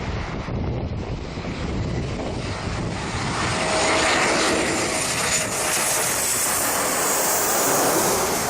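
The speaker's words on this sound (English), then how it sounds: "This Embraer 190 had to make an emergency landing without its nose gear." An Embraer 190 airliner comes in for an emergency landing in the Bahamas without its nose gear, its engine roar loud and steady throughout, mixed with heavy wind buffeting on the microphone and no speech.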